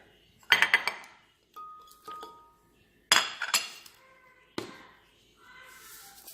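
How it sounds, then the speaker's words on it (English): Chili and other enchilada sauce ingredients drop into a glass blender jar in several separate bursts of clinks and taps, sharp and close against a quiet kitchen. "we're going to add everything into the blender"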